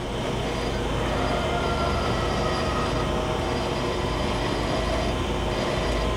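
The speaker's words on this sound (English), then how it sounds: "You can see up here the over the head dresser. I'm just pulsing it right now." A large Okamoto precision column-type surface grinder makes a dense, continuous mechanical rumble and hiss as its overhead dresser is pulsed up and down, loud and unbroken throughout with no voices.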